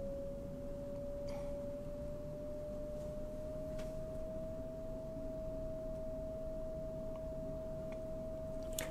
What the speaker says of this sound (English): So now we're going to set, therefore, then to 639 hertz.